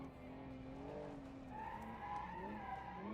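A 1960s sports car in the BeamNG driving game squeals its tires while understeering on throttle, with a steady engine drone and a wavering pitched squeal across the whole stretch, with no talking.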